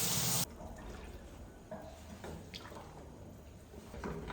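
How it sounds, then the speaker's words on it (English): Water poured into a cooking pot of plantain, a brief loud gush at the start followed by quieter trickling, sloshing and small drips. "So I'm going to put in some water."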